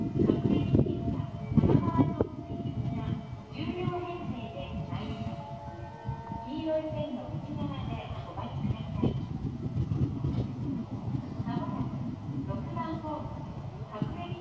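A Seibu Haijima Line express train pulls into Haijima station, its rumble and rolling wheel noise running steadily beneath a talking voice throughout.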